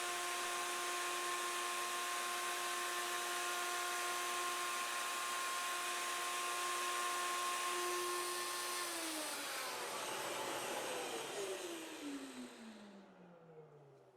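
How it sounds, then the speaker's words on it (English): A router in a Leigh FMT jig cuts tenons on a workpiece with a loud steady high whine and rough cutting noise, then spins down with a falling pitch at the end. "And now I'm cutting the tenons on the end."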